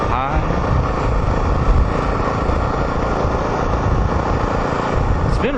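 An ATV engine drones steadily and loudly up close while driving along a Forest Service road in Utah, a continuous rumble with wind buffeting that holds from start to finish.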